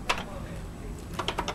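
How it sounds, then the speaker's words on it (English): Brief, quiet keystrokes on a computer keyboard as a short program is entered on a Color Computer, two small clusters of light clicks separated by a pause. "type in this short program"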